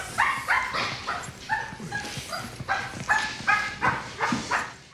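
A small pet puppy named Max gives a rapid series of high, yappy barks and yips, about a dozen short bursts in quick, uneven rhythm, close and fairly clear.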